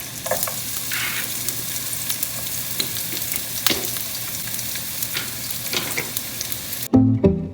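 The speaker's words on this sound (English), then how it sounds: "My stove is on medium high, so right now I'm just gonna spread all these onions" Onions frying in a greasy pan on a stove at medium-high heat for street tacos, with a steady close sizzle and occasional stirring scrapes, ending with a louder clatter.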